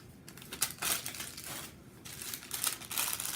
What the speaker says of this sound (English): All of the crinkling. It's very loud.